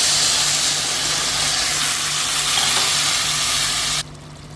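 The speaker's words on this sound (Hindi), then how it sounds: "चावल भून गया अच्छे से, तो अब इसमें हम पानी ऐड करेंगे।" Rice frying in a pan for Kolkata-style mutton tahari gives a loud, steady sizzle and hiss that cuts off abruptly near the end.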